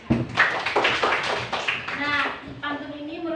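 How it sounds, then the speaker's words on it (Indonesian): Scattered clapping from Year 5 primary school pupils in a classroom at SDN 39 Tanjung Ria, close and busy for a couple of seconds, then giving way to a voice speaking. "Oke, tepuk tangan buat Dek Caca."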